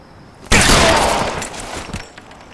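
A sustained burst of gunfire in the L.A. Noire video game on PS4, loud and close, erupting suddenly after a quiet moment and rattling on for about a second and a half before tapering off, with no talk over it.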